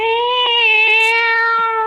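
A single drawn-out cat meow rings loud and close, wavering slightly in pitch, from a radio drama in which a cat pursues an old lady.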